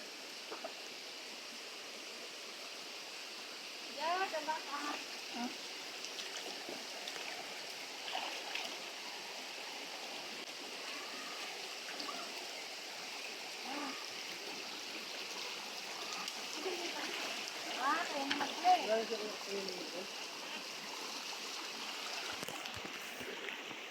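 A river stream flowing at a campsite, a steady broad wash of running water throughout, with faint voices and movement occasionally rising over it.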